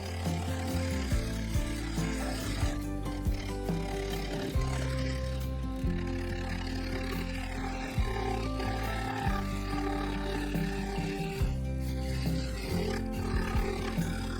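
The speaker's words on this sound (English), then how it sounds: "To begin with, I used a bowl gouge and a 1/4 inch parting tool." A wood lathe spins a segmented sapele, ash and oak vase while a bowl gouge cuts, producing a continuous low rumbling hum with rough, scraping bursts throughout.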